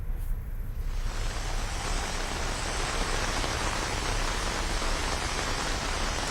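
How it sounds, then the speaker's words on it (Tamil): Heavy rain pouring down on Anna Salai at Nandanam in Chennai, a dense unbroken hiss of rainfall that swells in within the first second and then stays loud and steady throughout. "தற்போது இந்த பகுதியிலே கனமழை கொட்டி தீர்த்து வருகிறது."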